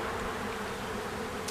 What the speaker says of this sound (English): Some Virginia killer bees, people.